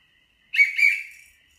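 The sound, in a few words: whistle blown twice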